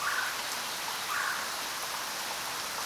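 Heavy night rain pours down on a hut in a cartoon scene, a steady, dense hiss of water with no voices.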